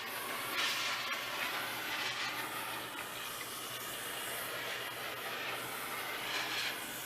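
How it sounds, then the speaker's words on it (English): A steam iron hisses steadily over a crochet Tunisian scarf, giving a continuous close, soft rushing spray with slight swells in intensity and no voices. "steam iron."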